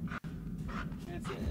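A dog or wolf in a video game whimpers and yips softly in a few short bursts, quiet and close under a person talking.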